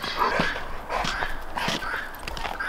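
A puppy whines and whimpers restlessly outdoors in winter, several short high plaintive cries in an uneven rhythm over a steady background hiss, fairly close.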